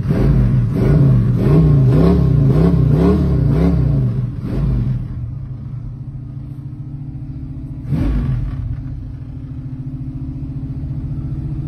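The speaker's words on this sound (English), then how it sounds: "Rev it up here for you." A 1972 Ford Mustang in Grabber blue with a cold engine and the choke on, blipped through several quick throaty revs, then settling to a lumpy idle with one more short rev, loud and near.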